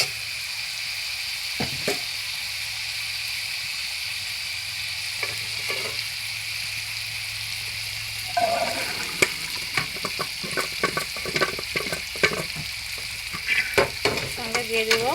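Potatoes sizzle steadily in hot oil in a pan, with a constant close frying hiss, and from about the middle on, repeated scraping and clinking of stirring joins in.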